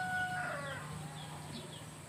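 A rooster crows at a zoo in Nabire, Central Papua, a bright sustained call lasting about half a second, followed by softer clucking against steady background noise.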